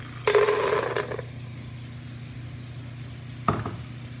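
Raw cashews being stirred into onions cooking in a pot, heard as a close sizzle and a scraping stir lasting about a second. After a quiet stretch a second short burst of stirring and clatter follows, with no voices.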